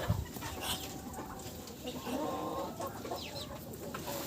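Chickens, with a white rooster among them, cluck softly at a distance amid a busy barnyard murmur, with scattered bird calls in the background.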